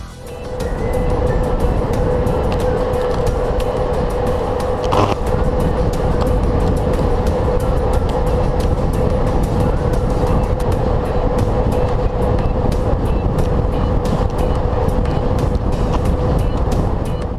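An electric train with a pantograph on overhead wires runs steadily along the rails with a continuous rumble, a sustained tonal hum and rapid rhythmic clatter, loud and close throughout.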